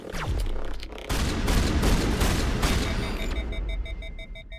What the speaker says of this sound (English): I like having that quick firing shotgun.